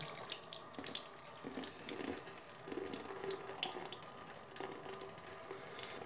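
Warm water runs from an indoor tap while a watch dial is cleaned, a soft, uneven splashing stream heard up close and alone, fluctuating as the dial is moved under it.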